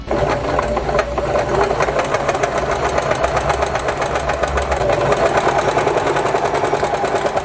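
Sewing machine stitching a hem with a presser foot, a fast continuous mechanical chatter of the needle running steadily and loud nearby without pause or talk.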